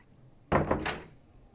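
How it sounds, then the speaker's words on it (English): A door being shut, a single close, fairly soft thunk with a brief rattling follow-through that quickly dies away, in an otherwise quiet room. "And shut the door so the bugs don't get in."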